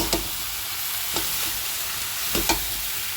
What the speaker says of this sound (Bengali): মশলাটা আমার কষে গেছে এখন দিয়ে দিলাম কাবলি ছোলাগুলো এবার এটা দিয়ে একটু কষিয়ে